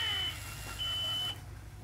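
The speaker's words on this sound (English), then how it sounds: "You may even hear the sound change where it's getting the draw of the gasoline up there." A Volvo Penta electric fuel pump runs while priming, a steady high whine holding one pitch with a soft hum beneath, then shifting and dropping off near the end.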